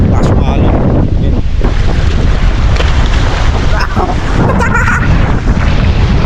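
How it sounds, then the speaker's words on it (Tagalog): Strong ocean waves surge and crash at Palani Beach in Masbate, heard as a loud continuous roar heavily buffeted by gusting wind on the microphone. "Lakas talaga yung alon."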